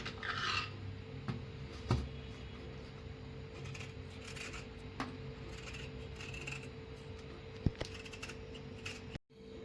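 A knife cuts through a guava on a board, giving a few soft scraping cuts and sharp little taps that spread over several seconds, with steady low room noise underneath.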